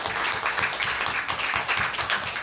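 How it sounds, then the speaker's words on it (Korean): A church congregation applauds its middle-school worship team at a Sunday service, a dense, steady clapping from a crowd that fills the room for a couple of seconds without a break. "귀한 찬양으로 섬겨주신 우리 신천중학교의 찬양팀에게 다시 한번 박수"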